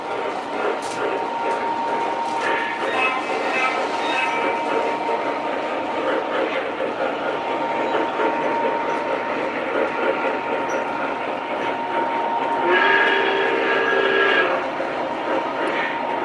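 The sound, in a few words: model ore train running on a layout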